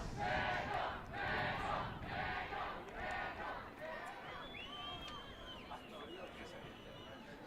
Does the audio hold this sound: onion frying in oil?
no